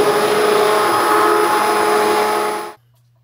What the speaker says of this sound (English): We done pulverized it with the immersion blender.